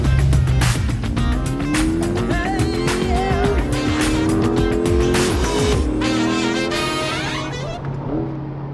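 A 2023 Chevrolet Corvette C8 pulls away hard, its engine note climbing loudly through several gear changes close by before easing off and fading at the end.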